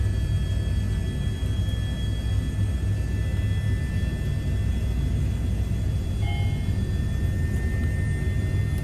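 Airbus H145 helicopter in a flight simulator, its engine over-revving: a steady, loud rumbling drone with a constant turbine whine, holding evenly throughout with no speech.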